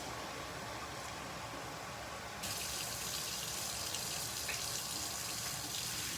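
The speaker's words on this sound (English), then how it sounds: "we're going to go ahead and add our 1 2/3 cup of water to our rice" Water pours steadily into a pot of rice, a soft continuous splashing stream that grows slightly louder and brighter partway through, faint and close with no talking.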